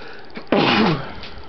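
A single loud sneeze bursts out after a brief intake of breath, with a sharp onset and a short fading tail, heard alone without talk, in a video game playthrough.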